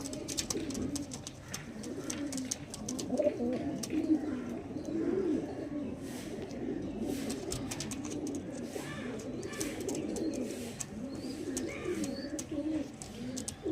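Soft, overlapping cooing of several ringed pigeons continues throughout, low and murmuring, with faint chirps and background rustle.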